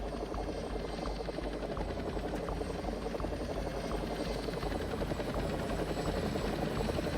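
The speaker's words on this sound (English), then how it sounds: "helicopters coming in now, probably to evac out these IDAP guys." A helicopter in the Arma 3 video game flies in, with steady rotor thumping and engine drone throughout, held at a constant loudness.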